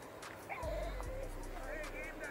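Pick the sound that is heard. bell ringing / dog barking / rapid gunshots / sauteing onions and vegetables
dog barking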